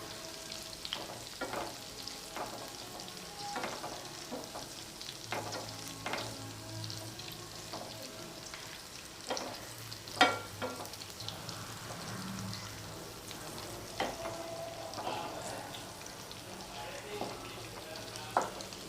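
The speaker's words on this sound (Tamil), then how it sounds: "நாலா பக்கமும் நல்லா வதங்கி சுருண்டு வரணும் கத்திரிக்காய்" Stuffed baby brinjals frying in oil and being turned with a ladle, a steady crackling sizzle with repeated scrapes and clinks of the ladle against the pan, close and unhurried.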